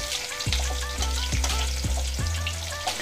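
Potatoes sizzle steadily in the oil left from frying katla fish, close and fairly loud, with a few sharp stirring knocks against the pan and no talk.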